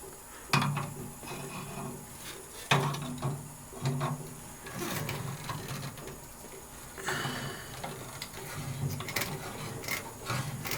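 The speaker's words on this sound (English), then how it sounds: "Anytime you're taking apart gas pipe with a couple of wrenches, you want the wrenches to be facing in opposite directions." Two wrenches work a gas pipe loose at a water heater gas valve, producing irregular metallic clanks, scrapes and knocks, close by and spread across about eleven seconds.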